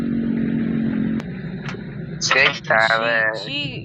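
A weak vehicle engine in a video game drones steadily, then cuts out abruptly as the fuel runs out, followed by a couple of clicks and game-style voice sounds.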